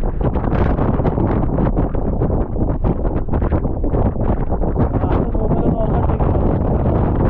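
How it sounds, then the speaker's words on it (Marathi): Strong gusting wind buffets the microphone on an exposed hilltop fort, a loud, continuous roar with constant rumbling and flutter throughout, no voices standing out. "वरती काय तुम्ही खूप हवा आहे"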